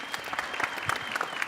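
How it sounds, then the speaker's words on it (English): A workshop audience gives a short, brisk burst of clapping, many hands at once, fairly close and steady throughout. "Round of applause."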